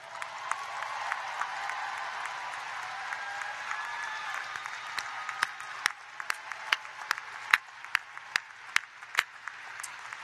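A large audience applauds at a university commencement ceremony, steady sustained clapping filling a hall, with individual louder claps standing out as the ovation thins toward the end.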